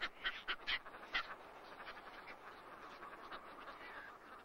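Caspian terns call in a nesting colony, with several loud, harsh, quacking cries at the start and fainter calls continuing over a low, busy background of birds.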